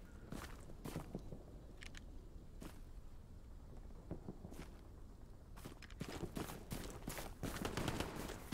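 Gunshots ring out in the World War II shooter Hell Let Loose, a scattering of sharp, fairly faint cracks at irregular intervals, thickening toward the end over a low ambient background.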